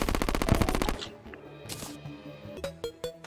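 Chlorophyte bullets fired from a gun in the video game Terraria, a rapid machine-gun burst of evenly spaced shots for about a second, followed by scattered softer game effects.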